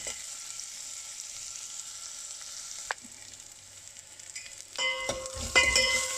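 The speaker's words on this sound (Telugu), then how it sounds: "వెల్లుల్లి వేగుతున్నాయి." Garlic and spices fry in a pan with a soft hiss that builds into a louder, crackling sizzle toward the end, after a brief sharp tap, with no talking.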